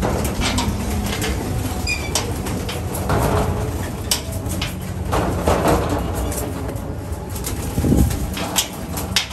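Racing pigeons coo inside a loft on the first day of home flying for the racing season, a steady murmur of low coos mixed with wing flaps and shuffling, with faint talk in the background.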